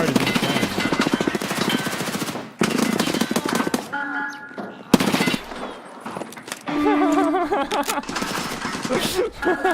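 Rapid automatic fire from an M6 rifle in Escape from Tarkov, loud dense bursts in several stretches with brief gaps between, mixed with game sounds.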